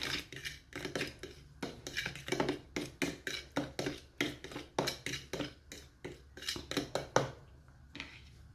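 Yogurt dip ingredients being stirred in a bowl: quiet, rhythmic clinks and scrapes of a utensil against the bowl, about two strokes a second, close and steady with no talking.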